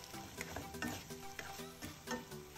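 Crispy pork frying in coconut milk for Bicol Express is stirred in a pan, with soft steady sizzling and quiet scraping strokes of a utensil, faint and close with no talking.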